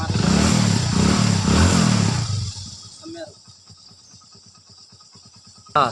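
A motorcycle engine runs loud and close for a couple of seconds, then drops to a quieter idle with a steady fast putter, with a sharp clatter right at the end.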